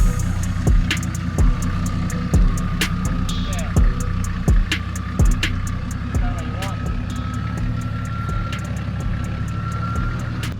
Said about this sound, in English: the first time driving this car, we're gonna just go down this little section